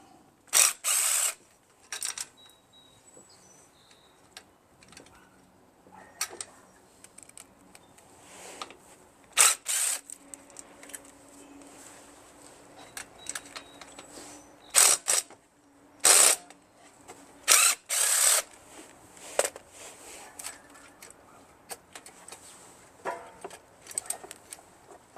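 Ratchet working on the throttle plate of a Briggs engine on a Craftsman LT1500 lawn tractor, faint scattered sharp clicking bursts over a quiet background, no talk.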